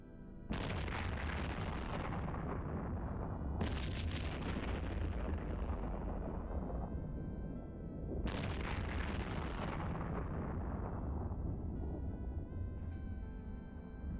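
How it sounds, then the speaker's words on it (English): Three heavy booming impacts, each a broad roaring blast that slowly fades, mark cruiser missiles striking in EVE Online, arriving about three to five seconds apart and staying loud throughout with no voices. "Cruisers shooting their missiles. The missiles hit."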